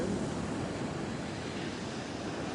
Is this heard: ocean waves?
yes